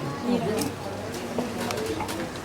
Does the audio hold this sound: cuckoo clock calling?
yes